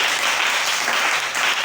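A church congregation applauding in praise, with dense, steady clapping from a crowd in a hall that stays even and full throughout this brief moment.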